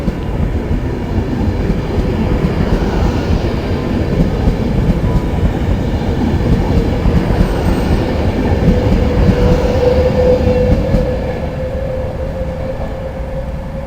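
A Virgin Pendolino train rushes through Birmingham International station, a loud sustained rumble and rail roar filling the whole stretch, swelling slightly near the end before easing off.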